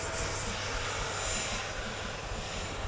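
FMS Futura 64mm electric ducted-fan RC jet passing slowly overhead outdoors in wind, a faint, steady whooshing whine at a distance that swells slightly mid-pass.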